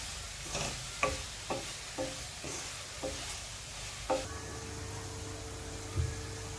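Tomato rice mixture being stirred and fried slowly in a pan, with a steady soft sizzle under repeated scraping strokes of a spoon, about one every half second, close by.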